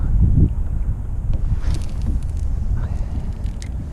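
Gusty wind buffets the microphone on a lake in April, low rumbling bursts strongest at the start, with faint scattered clicks and rustles.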